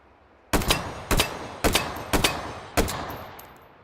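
Gunfire in the VR shooter H3VR, five sharp, close shots in quick succession, some paired as doubles, each with a short echoing decay, after a quiet start and with no talk.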